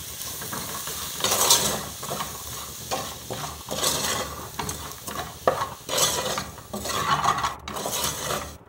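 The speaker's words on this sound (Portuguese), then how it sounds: "E agora, pessoal, a gente vai refogar o feijão, tá?" Beans are sautéed in a pan with a spoon stirring them, so a sizzle rises and falls with repeated scrapes and knocks of utensil against pan, close and fairly loud, with no talking.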